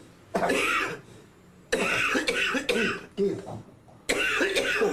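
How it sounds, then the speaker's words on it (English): Several sharp, harsh coughs come in separate bursts, with short quiet gaps between them. "Cough, cough, cough."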